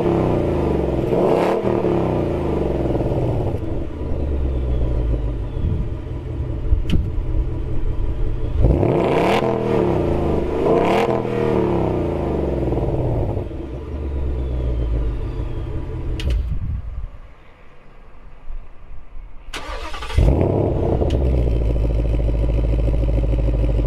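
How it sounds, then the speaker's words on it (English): Ford Mustang GT with active exhaust revving in repeated loud bursts, each blip rising and falling with a deep rumbling burble, then a short lull before the engine roars again. "Active exhaust, which actually sounds pretty good, if I do say so myself."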